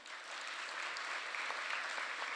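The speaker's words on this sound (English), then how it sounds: "Ladies and gentlemen, please show your appreciation for our panel." An audience applauds a panel at the close of a business leadership discussion, a sustained, even burst of many hands clapping that fills the room at moderate distance without any talking over it.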